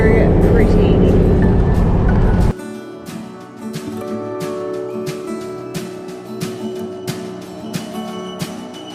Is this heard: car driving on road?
yes